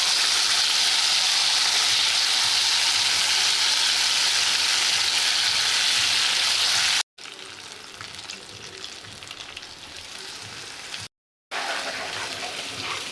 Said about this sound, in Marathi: हे वाटण आपल्याला छान भाजून घ्यायचं आहे